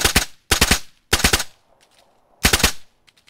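M16 rifle firing in burst mode in DayZ: three loud, sharp bursts of rapid shots, each a tight cluster of cracks separated by short pauses, with faint clicks and shuffling between them.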